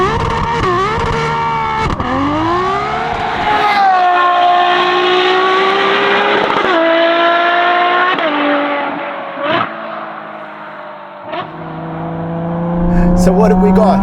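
A Ferrari 12Cilindri with a 6.5-litre naturally aspirated V12 and Novitec exhaust, heat-treated cats and X-pipe, revs loudly through rising and falling gear pulls on autumn roads, with brief shifts and a deep burble near the end.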